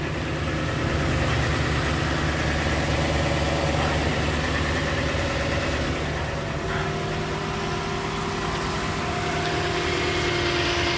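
A 2019 Toyota Sequoia with about 40,000 miles idles steadily up close, a continuous low engine hum with a faint knocking texture that stays even for the whole stretch with no talk.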